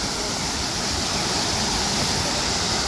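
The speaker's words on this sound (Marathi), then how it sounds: "तो हा बघा छोटा धबधबा" Small monsoon waterfall beside a Konkan jetty, a steady dense rush of falling water, broad and continuous at close range with no voices.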